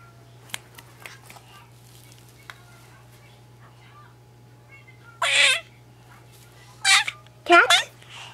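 A cat gives a few short meows, one single call then two more close together, against a quiet background with a low steady hum and faint scattered taps.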